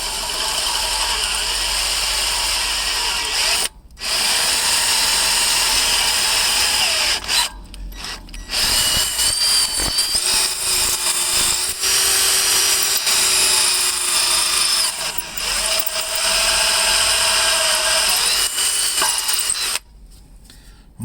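A power drill boring out a bolt during a flywheel and clutch refit, a loud continuous grinding whir that runs long with a few brief stops and restarts, and no talking.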